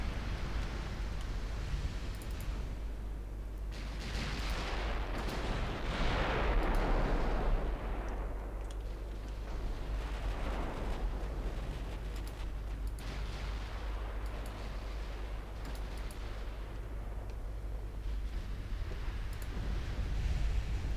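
Heavy naval gunfire from 16-inch guns firing HE shells in a naval warfare strategy game, with deep booming blasts and rolling rumble over a constant low background drone, several shots spread across the stretch.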